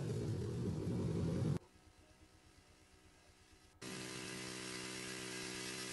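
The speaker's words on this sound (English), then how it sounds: "revving up the engines" Car engines in a video game rumble and whir, loud and steady, then drop abruptly to a quieter idle-like hum before surging back to a sustained rev with a strong tonal drone.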